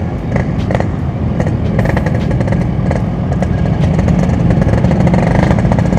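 Motorcycle engine revving with the clutch held in, a loud continuous close-up rumble with a steady throbbing note and rising throttle.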